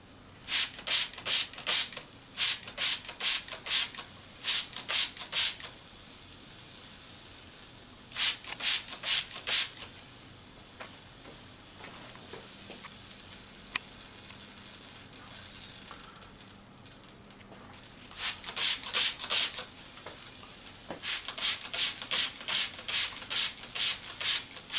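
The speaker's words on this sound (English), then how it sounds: "a demonstration of the dry band arcing on a silicone rubber rod where there's continuous wetting by a conductive electrolyte" Dry band arcing crackles along a silicone rubber rod kept wet with a conductive electrolyte. It comes as repeated bursts of rapid, evenly spaced buzzing pulses, separated by quieter stretches of steady hiss.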